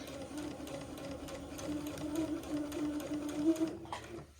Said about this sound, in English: simply sew a casing all along the bottom of this leg.